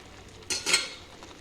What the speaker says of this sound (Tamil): நல்லா இந்த அளவுக்கு வதக்கிக்கோங்க.